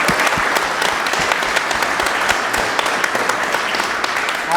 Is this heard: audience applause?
yes